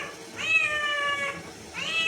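A pet cat meows in a home kitchen, two clear drawn-out calls, the first long and rising then falling, the second starting just before the end, close and fairly loud with nothing else over it.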